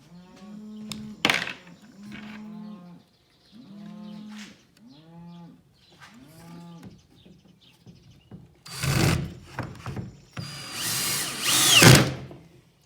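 A power drill with a star bit drives screws into the wooden parts of a bluebird nesting box. Short, loud, buzzing whirs come near the end, after a run of repeated low tonal sounds.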